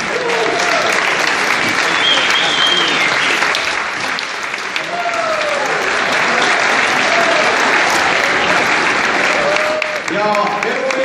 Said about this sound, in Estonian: Koos kummardus, aplaus!